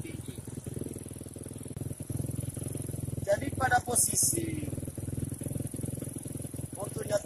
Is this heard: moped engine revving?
yes